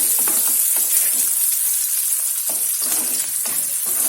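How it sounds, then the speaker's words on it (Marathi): Onion sautés in a pan until golden brown for ridge gourd bharit, with a loud, bright, steady hiss of hot oil and a few soft stirring scrapes, heard alone at close range. "कांदा आपला हा सोनेरी ब्राऊन कलर होईपर्यंत याला छान परतून घ्यायचा आहे"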